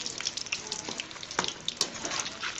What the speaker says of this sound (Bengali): উল্টিয়ে পাল্টিয়ে আমি ভেজে নিচ্ছি